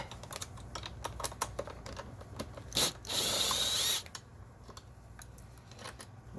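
A ratchet loosens the bolts on a Rosso Model T body kit, a run of quick close clicks around a short burst of continuous grinding ratcheting, quiet and alone.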